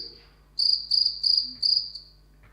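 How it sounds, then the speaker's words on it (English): A chirping cricket gives four evenly spaced, high-pitched pulse bursts, each a short buzzy chirp, close and clear against a quiet background with no talk. "This is a chirping cricket."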